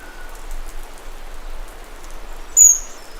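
Steady monsoon rain patters on surfaces around a kingfisher nesting site, a soft continuous hiss with a brief sharp bird chirp near the end.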